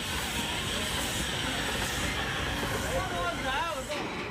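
A small steam train in rural China pulling in, a steady loud hiss and rolling rumble with rising squeals of brakes or wheels near the end; a voice speaks over it.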